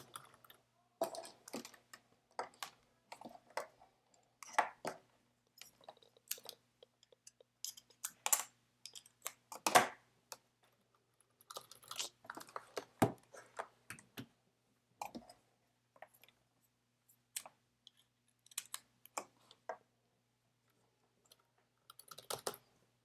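Typing on a computer keyboard: irregular bursts of quiet, close key clicks, with brief pauses between runs of keystrokes and no talking.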